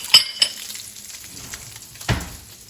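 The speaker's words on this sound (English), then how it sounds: "I'm gonna let that brown up on one side of my skillet" Vegan chorizo browns in a hot skillet with a soft, steady sizzle, punctuated by a couple of light clinks early on and a louder scrape or stir near the end.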